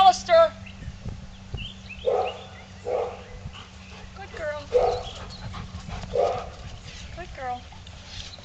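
Other dogs bark nearby during e-collar training of a pit bull named Petey, with repeated loud barks and some whimpers spread across the clip while a trainer's voice speaks over them.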